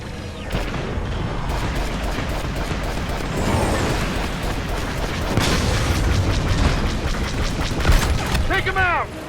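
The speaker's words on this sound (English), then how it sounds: "Our Y-Wings have initiated their bombing run." Heavy booms and bursts of bombing-run explosions from Y-Wing starfighters in Star Wars Battlefront II over Fondor, layered with cannon fire and gunfire in a dense, continuous space battle, with voices heard amid the din.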